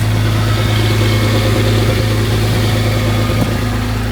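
Honda Civic engine idling steadily while warming up, a constant low mid-pitched hum with a smooth drone running throughout, close and even, no voices.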